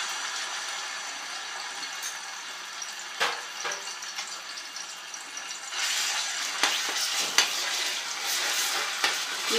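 Ginger garlic paste frying in hot oil for chicken liver fry, a steady close sizzle and crackle with occasional stirring scrapes that grow busier toward the end.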